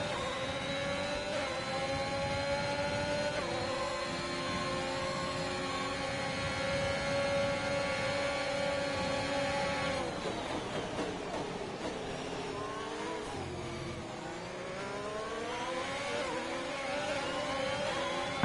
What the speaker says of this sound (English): listen to the brilliant sounds of their engines